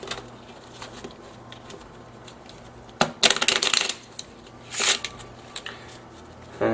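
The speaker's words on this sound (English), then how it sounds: "I'll just give the deck a little shuffle" Quiet handling noises, then several crisp riffling bursts of cards being shuffled, close and brief.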